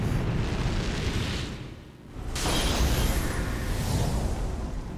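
The hero's star explodes in the video game Dragon Quest XI. A loud, sustained roaring blast rumbles, dips briefly into near-silence, then swells back into a broad thundering roar that continues to the end.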